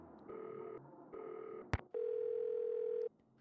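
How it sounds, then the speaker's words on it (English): Telephone in a Nancy Drew game ringing unanswered: two short beeping tones, a sharp click, then one longer sustained tone, faint and clean with no voices. "Phone rings, but no one answers."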